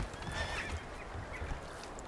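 A horse whinnies in the medieval city-building game Manor Lords, a short high neigh rising over a steady ambient wash of wind and village noise, moderately faint and without talk.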